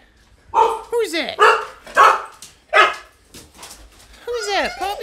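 A dog barks in several sharp bursts with yips and whimpering whines between them, close by, while a person speaks.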